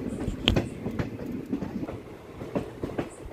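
Faint clickety-clack of a train's wheels over rail joints on the climbing Kollam Sengottai railway line, with soft irregular knocks and rattles over a low rolling rumble.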